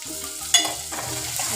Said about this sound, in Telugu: పచ్చిమిర్చి కూడా మంచిగా ఫ్రై కావాలి, బబుల్స్ వచ్చేంత వరకు.